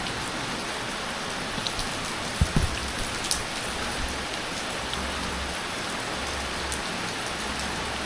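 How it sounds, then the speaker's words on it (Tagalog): Heavy rain pours down steadily in a dense, even hiss of drops striking surfaces, close and continuous, with a few brief knocks partway through and no talking. "Alas siya, pero patuloy ang pag-ulan."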